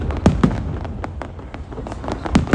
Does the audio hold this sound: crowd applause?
no